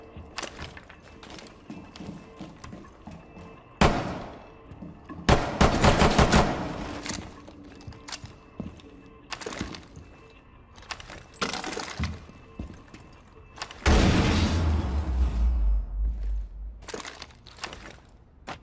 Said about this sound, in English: I'm going to detonate this hatch